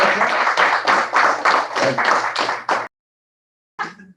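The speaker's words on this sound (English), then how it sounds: "I'm clapping" One person claps at a retirement tribute, about a dozen close, even claps in a quick rhythm, then silence and one short final sound.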